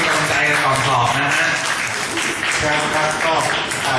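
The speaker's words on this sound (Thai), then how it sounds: "ขอเสียงปรบมือให้ทุกท่านด้วยนะครับ" An audience applauds at the opening of a student music recital, with clapping mixed with a speaker's voice and background tones, loud and sustained.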